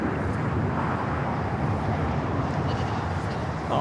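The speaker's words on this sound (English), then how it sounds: "That is United Airlines 2487 taking off to Chicago on the A321neo." A United Airlines Airbus A321neo takes off at LAX bound for Chicago, its jet roar a steady broadband rush heard from a distance outdoors, with wind on the microphone and some voices in the background.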